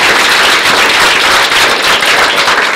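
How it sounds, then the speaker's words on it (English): A loud, dense burst of clapping from an audience at a VR film showcase, steady and continuous with no voices above it. "let's give a big round of applause for Tyler"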